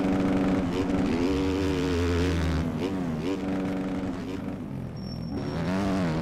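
A motocross bike engine in the MX Bikes video game drones and revs steadily throughout, rising and falling in pitch with throttle changes, loud and continuous.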